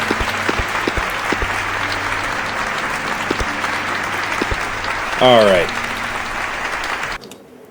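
Steady applause and cheering from a crowd in the video game My Liege fill the clip, with a voice speaking briefly partway through before it cuts off.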